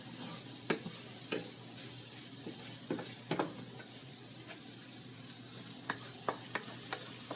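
A lentil dal mixture stirred in a pot makes a quiet, steady sizzle, with scattered soft spoon taps and scrapes at irregular intervals, no voices.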